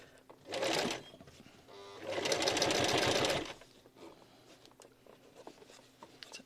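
A sewing machine stitches along the bias-binding edge of a fabric wheat bag cover in two bursts, a short run then a longer steady whirring stretch, close and loud, with quiet handling noises between.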